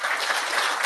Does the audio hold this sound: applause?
yes